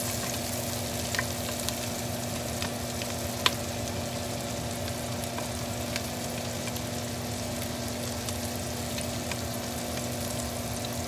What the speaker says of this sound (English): when you're doing a sauté onions